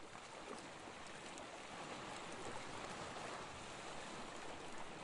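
Sea waves wash in a steady, soft, continuous roar of surf with no distinct breaks, heard alone and fairly faint.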